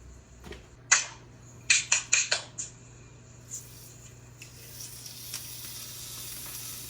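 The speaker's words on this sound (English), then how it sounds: "You hear it? Starting to sizzle?" Duck breast hisses in a hot skillet: a quick run of sharp sizzling bursts, then a softer, steady sizzle that builds slowly.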